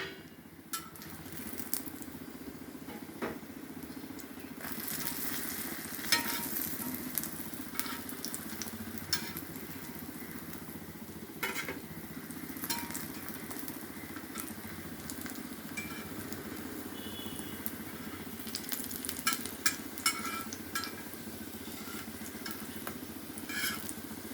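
Plantain slices fry steadily in hot oil, giving an even, continuous sizzle with scattered pops and faint crackles throughout, heard alone with no talking.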